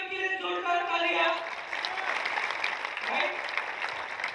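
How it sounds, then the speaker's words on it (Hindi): Audience applause rises at a business convention after a voice finishes announcing a speaker, a steady crowd clapping that continues to the end with some murmur under it. "सुरभि मैम के लिए जोरदार तालियां।"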